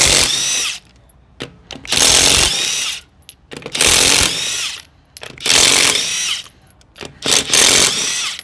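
A cordless impact wrench, either a Matco 900 ft-lb or a Milwaukee 600 ft-lb model, hammers loose the rear wheel lug nuts in five loud, close, rattling bursts of about a second each, separated by short pauses.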